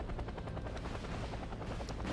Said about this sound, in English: Here we have an Mi-28, the Havoc, more traditional Russian attack helicopter.